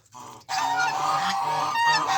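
A goose honks loudly and close, a sustained nasal call following a short first note.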